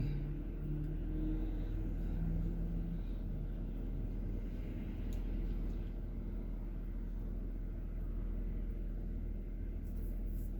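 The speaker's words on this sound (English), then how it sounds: "Here's a guy coming in a truck with all his brights and his lower fog lights" A truck with bright headlights and fog lights drives at night, a steady low engine rumble that holds through the whole stretch, moderately loud with no clear pass-by peak.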